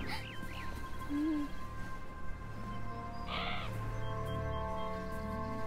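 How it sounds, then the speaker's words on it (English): A crow calls in the video game Beyond Eyes, a few short cawing cries over a steady ambient game soundscape of outdoor tones and hum. "Oh, there's a spooky crow."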